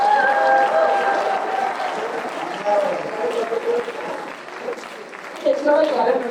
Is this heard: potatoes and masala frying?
no